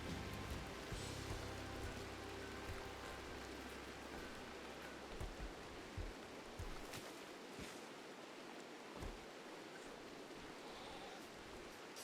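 Rain falls in the RimWorld video game, a faint, steady hiss of drops with a low rumble easing off partway through and a few soft knocks, with no talk.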